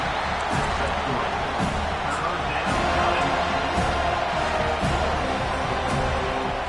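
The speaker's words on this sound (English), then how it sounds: "Here comes this home crowd as the defense tries to get off the field on 3rd down." Home crowd at an American football game roars steadily throughout a third-down defensive stand, a dense continuous wash of voices with a few louder swells.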